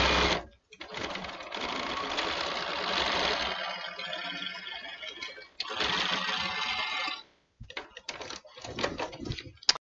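A sewing machine stitches a paper pieced quilt block in several bursts of fast, rattling mechanical stitching, close by, separated by short silent pauses.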